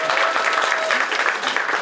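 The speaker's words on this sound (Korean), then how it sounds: "박수 전해 주십시오." An audience at a regional education forum claps, a full, loud burst of many hands clapping continuously throughout, with a faint tone and murmur beneath.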